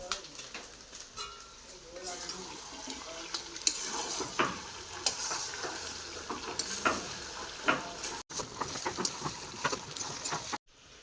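Ground cumin frying in a pan for chicken fried rice, a close crackling sizzle with scraping stirs and bursts of hissing, with a voice speaking over parts of it.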